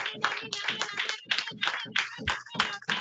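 A church congregation at a Sabbath service claps together in steady rhythmic bursts to acclaim the Lord, close and lively, with voices mixed in.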